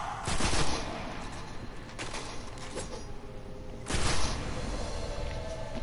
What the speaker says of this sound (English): there's people still shooting at us